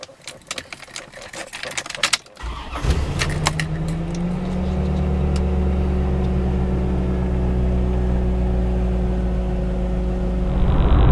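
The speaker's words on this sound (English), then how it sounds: "First time driving it, driving the car on the freeway with the clear top, and the wind noise is pretty terrible." Loud, steady wind roar fills the cabin of a Corvette C4 cruising on the freeway with its clear top on, over a low engine drone, after a short stretch of rattling, bumpy noise.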